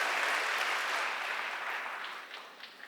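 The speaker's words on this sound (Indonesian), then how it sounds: "Tepuk tangan buat Tuhan Yesus saudaraku sekalian." A congregation at a church service claps together, a dense, loud burst of applause that gradually thins and fades out with a few scattered claps at the end.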